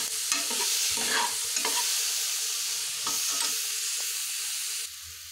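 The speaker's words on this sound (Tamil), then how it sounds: "வெங்காயம் நல்லா வதக்கிட்டோம்னா அந்த பூண்டு போட்டுக்கலாம்." Onions and garlic sauté in a hot pan, a continuous close sizzle broken by the scrape and clatter of a stirring utensil, with the sizzle suddenly dropping away near the end.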